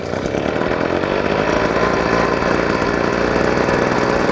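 A Cobra BP43C petrol backpack blower engine, new, with choke on, runs at a steady loud buzzing idle close by, a continuous two-stroke drone with no voices.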